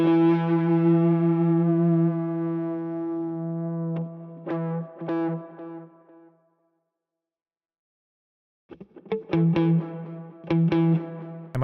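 An electric guitar runs through the Neural DSP Archetype Mateus Asato plugin with delay and tape drive turned fully up, ringing sustained gritty chords that fade into silence, then resume as clipped, echoing stabs.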